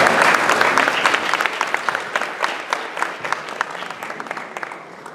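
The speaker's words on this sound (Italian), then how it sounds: "Quindi ancora un applauso e un ringraziamento sentito alla Polizia di Stato." Sustained applause from an audience, dense clapping that slowly thins out and fades over several seconds.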